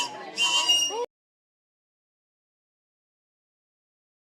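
A 3D-printed whistle blown once at close range, giving a short, whimsical warbling tone that bends in pitch and lasts about a second before silence.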